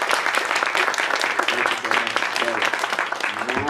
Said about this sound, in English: Can we give an applause?